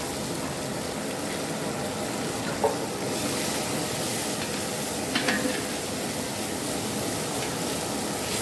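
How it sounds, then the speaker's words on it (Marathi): Grated coconut being stirred into frying borsuri dal with ginger and garlic in a hotel kitchen in Latur, a steady sizzle and scraping stir carrying on evenly throughout with a couple of small clinks. "व्यवस्थित त्याला हलवून घ्यायला लागलेत, सर्व मिक्स करून घेत आहेत।"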